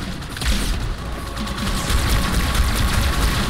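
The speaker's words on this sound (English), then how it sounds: "You can kill those guys with a battle rifle." Battle rifle gunfire in Halo 2: dense, continuous volleys of shots and booms layered into a loud, sustained barrage with no pauses.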